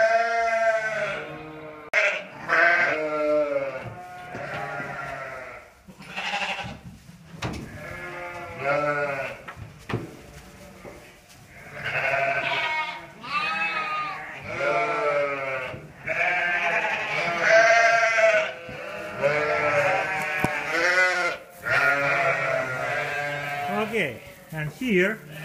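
Purebred Dorper hair sheep bleat repeatedly on a farm at winter feeding time, a dense chorus of overlapping near and mid-distance calls running throughout, with a person talking over the flock.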